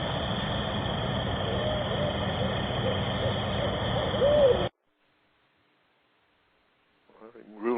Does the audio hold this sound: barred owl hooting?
yes